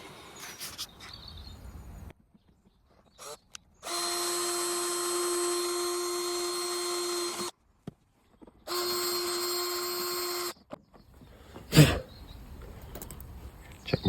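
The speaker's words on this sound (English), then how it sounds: "Now I need to drill through that." Power drill boring through a Ford Mondeo headlight mount, two sustained high whining bursts of several seconds each separated by short pauses, followed by a few clunks and a sharp knock.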